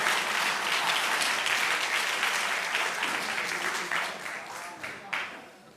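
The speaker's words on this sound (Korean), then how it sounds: "박수 한번 주십시오." A crowd at a party rally breaks into loud, sustained clapping that slowly thins out, with a few last scattered claps near the end.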